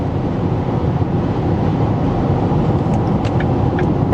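A 2025 Lincoln Nautilus Premiere with a turbo four-cylinder drives on the highway, producing a dense, steady roar of road and wind noise with engine hum, loud and unbroken, with no talking.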